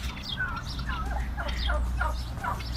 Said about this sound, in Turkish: Gördüğünüz gibi baba hindimiz kabarıyor